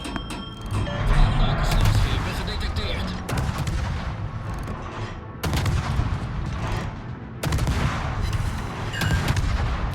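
Booming warship cannon fire rolls continuously through a naval video game battle, loud dense salvos breaking into new blasts every couple of seconds with faint talk beneath.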